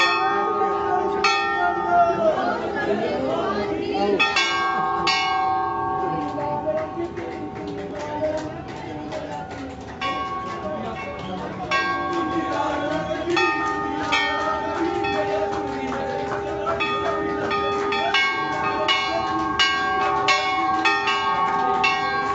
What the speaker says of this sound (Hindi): बड़ी बड़ी घंटियां दिखाई दे रही हैं।